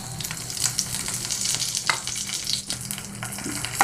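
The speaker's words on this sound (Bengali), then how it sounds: "দেখুন এই যে 5 ফোড়ন, তেজপাতা, শুকনো লঙ্কা এখন ভেজে নেব।" Panch phoron spices with bay leaf and dried chilli sizzle steadily in hot oil, a close, continuous frying crackle with occasional stirring scrapes and no talk.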